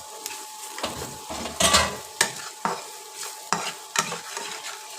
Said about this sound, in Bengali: আমি সুন্দর করে নেড়ে দিচ্ছি।